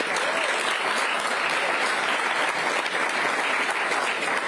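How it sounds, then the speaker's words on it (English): Dense, sustained audience applause at a NATO Association of Canada event as a guest is invited to the stage, an even and unbroken wash of many hands clapping. "please, round of applause"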